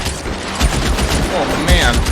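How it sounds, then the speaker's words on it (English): Video game gunfire in L.A. Noire, with military personnel being shot, rattles out in quick bursts while a voice talks over the shooting. "Getting shot. I feel bad shooting like all these military personnel."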